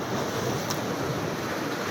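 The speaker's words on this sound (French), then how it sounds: "Il y a des très grosses vagues." Large ocean waves crash in a steady, broadband roar that fills the whole stretch with no letup and no voices.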